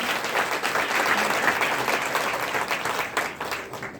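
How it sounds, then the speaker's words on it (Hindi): Loud, dense applause from a large crowd at a religious annual festival gathering, a continuous wash of many hands clapping that holds steady, then thins and fades toward the end, with no talk over it. "एक बार आपको जबरदस्ती जोरदार तालियां"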